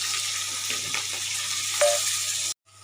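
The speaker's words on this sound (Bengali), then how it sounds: "এই তেলে 5 ফোঁটন দিয়ে দেবো, শুধু 5 ফোঁটন আর কাঁচা লঙ্কা দিয়ে তরকারিটা হবে" Panch phoron and green chillies sizzle in hot oil, a loud steady crackling hiss with a few pops that cuts off abruptly near the end.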